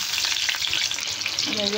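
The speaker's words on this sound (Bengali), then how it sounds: "আর এই আলুগুলো কেটে ধুয়ে রেখেছিলাম, এই কড়াই দিয়ে দিলাম।" Cut potato pieces fry in mustard oil in a wok, a loud, steady, close sizzle with crackling throughout and a faint clink of stirring near the end.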